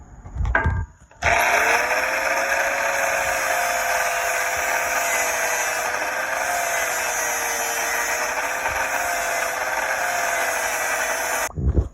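An angle grinder with a flap disc grinds down rough welds on a steel leg press hack squat machine, one long, loud, steady high-pitched whine lasting about ten seconds, with a brief spin-up and a clatter at either end.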